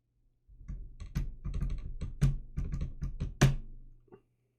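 Quick bursts of keystrokes clatter on a computer keyboard, close and fairly loud, with a few harder key strikes standing out and no talking.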